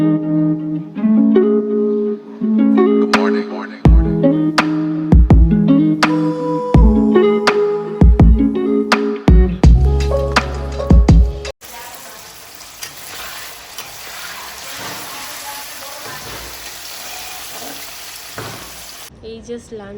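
Paneer frying in a pan, with a steady broadband sizzle spreading over the second half after earlier clattering kitchen sounds; no speech.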